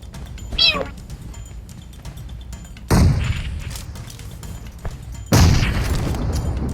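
Two loud booming grenade blasts in PUBG Mobile a few seconds apart, each leaving a rumbling tail, with a brief cat-like meow early on and background game noise.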